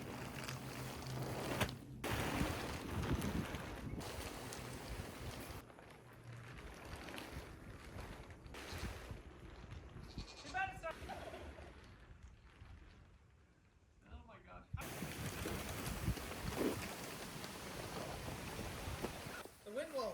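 Gusty wind outdoors at a large greenhouse build site, buffeting the microphone in rough bursts that ease briefly in the middle, with some speech mixed in.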